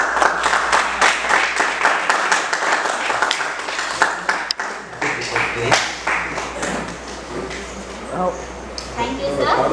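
An audience claps at a school teachers' day felicitation, with rhythmic applause continuing under a voice speaking over a microphone.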